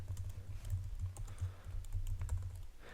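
Fingers type on a computer keyboard while editing Arduino code, a quiet, close run of uneven key clicks and taps with no talking.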